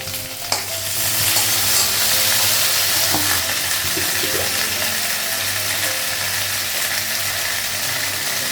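Ginger paste frying in a pan: a loud, even sizzle that swells just after a sharp drop-in clatter and holds steady, with a low hum running beneath and occasional stirring clicks.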